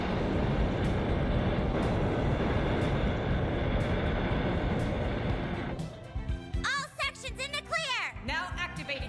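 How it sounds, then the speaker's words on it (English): The anime spaceship Macross lifts off toward outer space in a dense, loud, continuous roaring rumble like a heavy engine blast. The roar fades toward the end as a voice begins talking. "As you can see, the Macross has launched back towards outer space."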